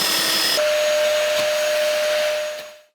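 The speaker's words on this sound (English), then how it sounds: "I catch all of the dust with the vacuum so that it doesn't mess up our beautiful floor" A vacuum cleaner runs loud and steady close by, sucking up sanding dust from the floor of a van being converted, its whine shifting pitch early on and holding until it cuts off near the end.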